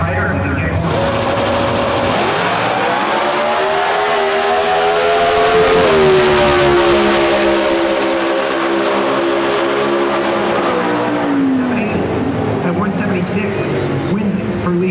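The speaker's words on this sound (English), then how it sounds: "This is what drag racing is all about." Factory Stock drag race cars roar at full throttle down the track at the NHRA Summit Nationals in Norwalk, Ohio, a loud sustained engine howl rising in pitch through the run and fading near the end.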